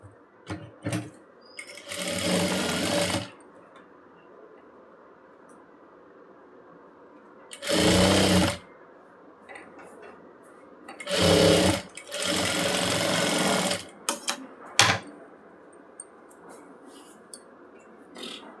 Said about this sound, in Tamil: சிம்பிளாக அப்படியே உள்ளால ஒரு தையல் போட போகிறோம்